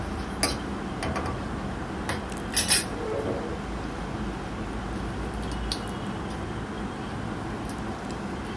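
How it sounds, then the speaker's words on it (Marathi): Green chillies stuffed with masala are split and dropped into hot oil tempering (phodni) for curd rice, giving a steady close sizzle throughout, with a few brief utensil clinks and ticks. "फोडणीमध्ये मिरच्या फोडून टाकायच्या आहेत"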